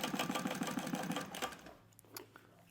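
A Thor GE 0617C industrial sewing machine stitches in a rapid, even mechanical rhythm for about a second and a half, then stops and leaves a low motor hum with a few faint clicks, heard close up with no talking.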